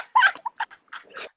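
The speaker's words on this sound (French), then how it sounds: "Regarde une chienne comme ça." A dog gives a few short, high whines and yips in broken bursts, close and clear, with silence between them.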